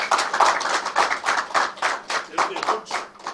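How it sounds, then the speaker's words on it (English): Rhythmic clapping from an audience at a public declaration event in Nigeria sounds close and moderately loud. The claps come in uneven bursts, with voices mixed in. "A good round of applause."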